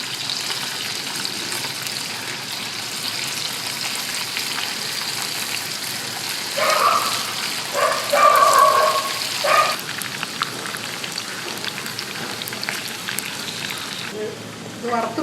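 Marinated chicken pieces coated with pepper powder, ginger and garlic fry in hot oil for chicken curry, a steady crackling sizzle throughout that briefly swells louder as pieces go in, with a voice speaking over it at times.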